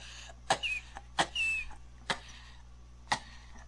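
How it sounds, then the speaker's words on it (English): A man coughs in short, sharp bursts, four separate coughs spread out with pauses between them, fairly close and moderately loud. "Then he starts coughing."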